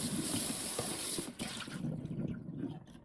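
Water pours and splashes into a tray of radish microgreens, a steady gushing stream that cuts off and then continues in softer trickles and drips.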